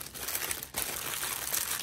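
A piece of plastic packaging crumpled by hand, giving a continuous close crinkling and crackling that lasts just under two seconds, with a brief dip partway through.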